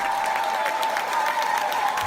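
A large crowd applauds steadily, a dense continuous wash of clapping at a constant level with a faint tonal hum running underneath.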